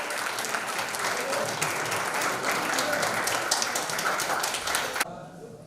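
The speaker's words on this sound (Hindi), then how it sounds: "तो जोरदार तालियां होनी चाहिए नवल श्रीवास्तव के लिए" Loud, sustained audience applause fills a hall at a one-day leadership program in Rampur, a dense steady clatter of many hands for about five seconds before it cuts off abruptly.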